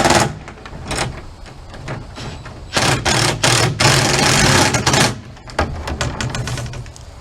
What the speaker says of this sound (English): Let me tighten up these last two bolts